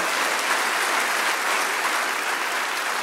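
Sustained, dense clapping from a church congregation during a worship service, steady and loud across the whole stretch with no voices breaking through.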